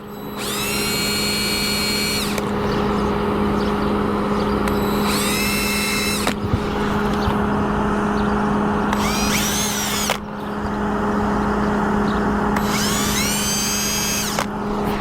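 Power drill running in bursts while installing a MaxxAir vent cover on an RV roof, a whining motor revving up and down four times over a constant background hum, close and loud.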